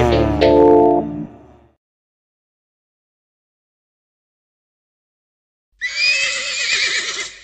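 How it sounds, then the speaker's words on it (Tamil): A horse neighs loudly in a short, wavering whinny, followed by a long silence and then a second shrill, quavering neigh, clear and close with no talk over it. "என் பேரு தான் குதிரை"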